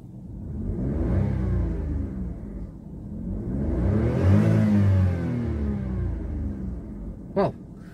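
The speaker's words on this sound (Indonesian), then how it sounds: "Di sini kita coba gas dulu sedikit." A turbocharged Daihatsu Rocky engine revs up twice, rising and falling in pitch, loud and close, followed by a brief high squeak near the end.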